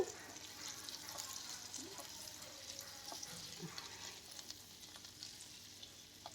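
Sweet potato dry bhaji with rock salt and spices stirred in a pan, a faint soft sizzle with scattered light scraping taps throughout.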